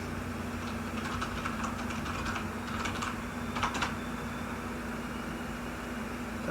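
A Wi-Fi password is typed on a computer keyboard in a short run of soft keystrokes, rapid then pausing, over a steady electrical hum with no talking.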